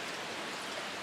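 Steady rain pattering on cucumber plants in a garden, a dense even hiss of drops with no breaks and no voices.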